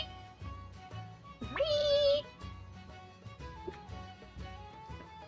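A cat lets out one drawn-out, rising meow, close and clear, amid soft background noises and faint tones.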